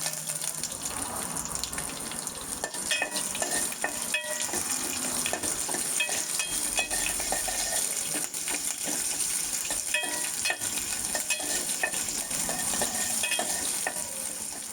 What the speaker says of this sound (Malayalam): അതുകൂടെ ചേർത്ത് നല്ല ബ്രൗൺ കളർ ആകുന്നത് വരെ ഒന്ന് മൂപ്പിച്ചെടുക്കാം.